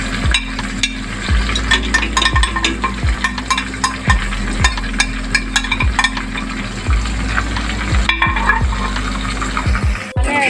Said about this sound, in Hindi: ऐड करने के बाद आपने इसे अच्छे से मिक्स करना है ताकि सारा मसाला जिंजर गार्लिक जो है वो एक साथ एक पेस्ट बन जाए।